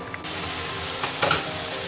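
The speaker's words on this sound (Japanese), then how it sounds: "このまま水分がなくなるまで蒸し焼きにします。" Chicken tsukune steam-frying in a lidded frying pan over lowered heat, a steady close sizzle and crackle running throughout with a brief louder burst of spitting near the middle.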